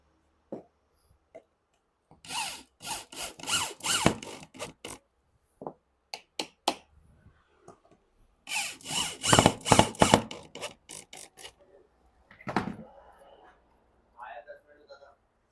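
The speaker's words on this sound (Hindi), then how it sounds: "जब मैंने इसके अंदर ड्रिल करके इसको स्क्रू को फिटिंग किया है" A power drill bores into engineered wood and drives a screw in two loud whirring bursts, with short scraping and handling sounds in between, close by.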